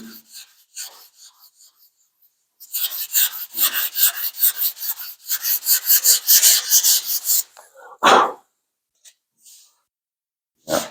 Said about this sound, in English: And I'm just lightly sanding.